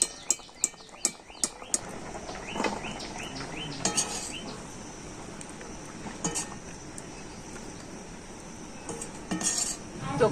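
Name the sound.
boiled jackfruit seeds being drained and lifted from a pot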